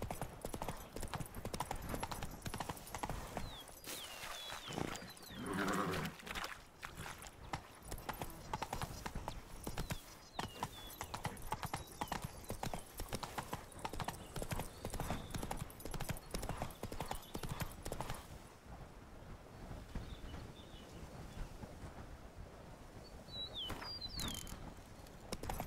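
Hooves of the horse Roach clip-clopping in a steady galloping rhythm across The Witcher 3 game world, loud and continuous with faint ambient noise and a brief whinny-like accent.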